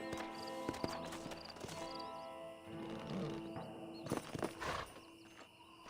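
A horse in Red Dead Redemption gallops and then slows, its hoofbeats clopping beneath music and ambience, with a sharper cluster of thumps near the end.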